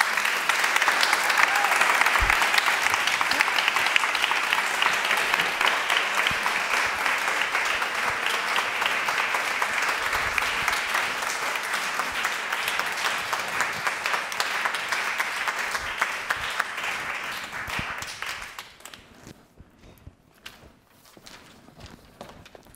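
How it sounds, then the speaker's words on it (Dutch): Loud, steady audience applause after a stage performance at an evening event, a dense wash of clapping that holds for most of the clip before tapering off near the end. "nog eens een heel hard applaus voor iedereen die vanavond op podium is geweest"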